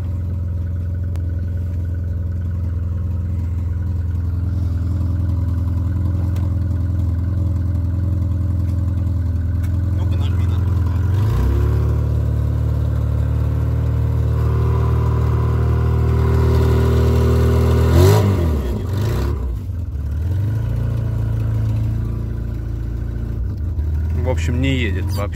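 A VAZ 2114 car with a failed, slipping clutch revs continuously, a loud steady engine drone that rises in pitch midway and surges again later, close to the listener with no let-up.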